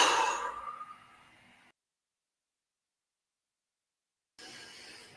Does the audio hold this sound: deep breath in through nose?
yes